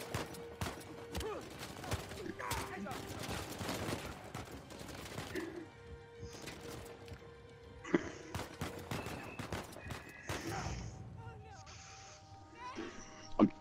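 Gunfire in the video game Uncharted 4, scattered shots and bursts throughout a firefight, moderately loud, mixed with voices talking over the action.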